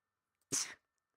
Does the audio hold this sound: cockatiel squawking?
no